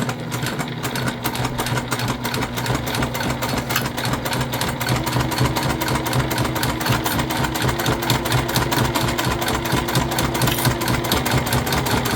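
A sewing machine top stitches a Trailblazer convertible bag, running in a steady, fast mechanical rhythm with a low motor hum that carries on without pause for the whole stretch, close and fairly loud, with no voices.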